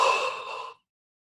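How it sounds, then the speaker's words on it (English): One breathy yawn or sigh-like exhale, close and fairly loud, fades out after under a second, leaving silence. "just focus on the front of your neck and just yawn again"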